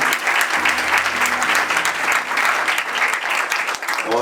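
Sustained audience applause at a church music gathering, a dense, steady wash of many hands clapping that stays loud throughout with no pauses.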